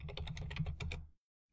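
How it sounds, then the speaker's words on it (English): Rapid keystrokes on a computer keyboard while entering Bettercap network security commands: a steady, close burst of clicking taps for about a second, then quiet before one faint final tap. "we can type arp.spoof and we can set this on"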